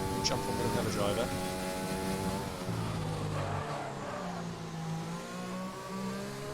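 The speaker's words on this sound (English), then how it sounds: "Is the engine sound really loud, is it?" A race car engine drones and shifts pitch in a sim-racing tournament, holding steady tones with gear changes at moderate volume while commentators talk faintly over it.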